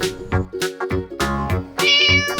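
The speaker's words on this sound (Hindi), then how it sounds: "अगले ही मोड़ पर एक बिल्ली साहिबा खड़ी थी" A cartoon cat in an animated Urdu/Hindi children's story gives several loud, close meows in quick succession, drawn-out and tonal, with no talk over them.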